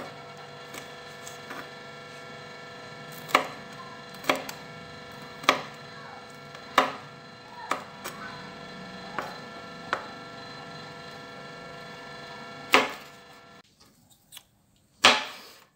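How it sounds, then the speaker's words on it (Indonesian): Curly red chilies are chopped with a knife on a board, about a dozen crisp, evenly spaced chops with short pauses, close and clear over a faint background hum, no talk. "Pertama kita potong-potong dulu cabai keritingnya."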